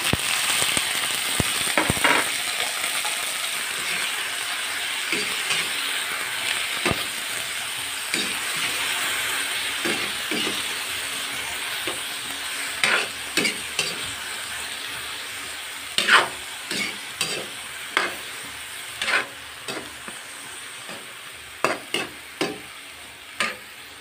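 Eggplant frying in an oiled pan gives a loud, continuous crackling sizzle, with sharp spatula knocks and scrapes that come more often toward the end.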